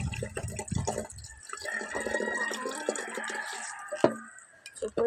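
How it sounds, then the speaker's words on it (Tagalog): A slow-running water tap trickles and drips into a basin, with thin splashing and a few knocks near the end. "Ang bagal naman ang gripo guys."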